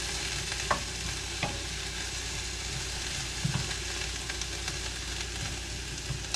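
Onions fry steadily in a pan on medium-high heat, a dense continuous sizzle with a few sharp clicks of stirring, close and unaccompanied by talk.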